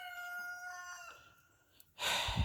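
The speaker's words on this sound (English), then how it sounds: "I've got a rooster crowing in the background." A rooster crows once in a long, drawn-out call, fading at the end, followed by a burst of rustling noise.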